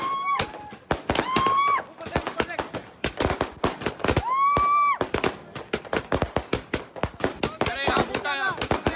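A dense run of celebration firecrackers pops and crackles nearby, loud sharp bangs fired in quick bursts like a machine gun, with shouting voices and whistling tones mixed into the barrage.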